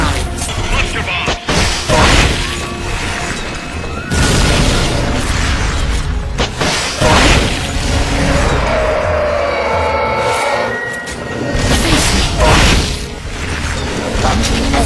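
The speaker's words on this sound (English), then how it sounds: "Cluster bomb!" Cluster bomb blasts in Metal Gear Solid Peace Walker, a series of loud booming bursts and crashes with whooshing debris, spread across the stretch amid dense game effects.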